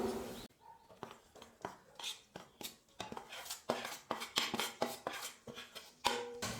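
A spoon mixing gram flour into melted ghee in a pan makes repeated metallic clinks and scrapes in an uneven rhythm, close and fairly quiet, with no talking.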